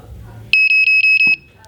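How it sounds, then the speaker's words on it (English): A Matrix multi-function balance charger gives a loud run of five short electronic beeps at an even pace. A brief click comes near the end of the run, with a quiet room before and after the beeps. "Charger will beep, do the battery check"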